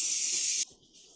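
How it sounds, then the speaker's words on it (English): Brake cleaner sprayed onto the inside surface of a Yamaha Aerox scooter engine crankcase: a loud, close, steady aerosol hiss lasting over half a second, then cutting to a fainter residual hiss. "I'm going to use a little bit of brake cleaner and just clean up that surface inside."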